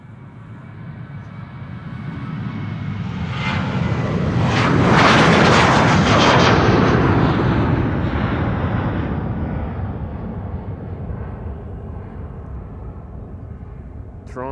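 A Transavia jet passes by at Amsterdam Schiphol Airport, its engine roar swelling from a distant rumble to a loud, bright peak midway and then fading away again, with no voices.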